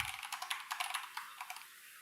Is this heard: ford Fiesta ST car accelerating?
no